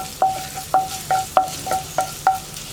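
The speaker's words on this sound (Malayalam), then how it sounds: "വെളിച്ചെണ്ണ ചൂടായി തുടങ്ങുമ്പോൾ നമുക്ക് നമ്മൾ കട്ട് ചെയ്ത് വെച്ചിരിക്കുന്ന ഇഞ്ചി ചേർത്ത് കൊടുക്കാം." Cut ginger frying in hot coconut oil in a pan, a steady sizzle punctuated by six evenly spaced scraping stirs with a utensil, loud and close, no voices.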